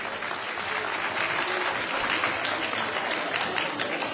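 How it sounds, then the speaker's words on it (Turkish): An audience at a Turkish community evening event claps continuously, a steady crowd applause of many hands at even loudness throughout, with no voice rising above it. "Alkışlıyoruz kendilerini."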